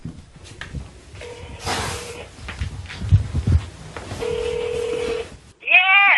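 A telephone line tone plays, then a steady ringback hum sounds for about a second while a call is placed, with muffled background noise around it.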